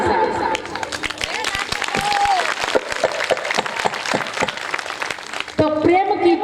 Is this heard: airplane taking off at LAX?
no